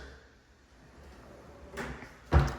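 A bathroom vanity drawer, with cutouts for the sink plumbing, in a modern new-construction Atlanta home knocks shut: a soft bump followed by a sharper clunk at the end, in a quiet room.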